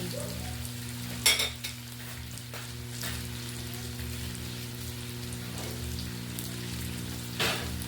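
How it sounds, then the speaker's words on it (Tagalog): Pork adobo sizzles and fries steadily in a pan as potatoes are stirred in, with a few louder scraping stirs near the start and end over the constant crackle and a low steady hum. "Mix natin together yung patatas."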